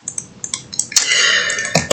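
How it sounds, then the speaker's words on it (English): A single close burp rises out of faint clicks and ticks, holds briefly and trails off. "gastral bullcrap would stop coming up and trying to make me burp"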